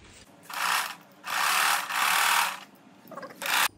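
Sewing machine stitching a pajama side seam, several bursts of rapid mechanical whirring separated by brief pauses, close and fairly loud.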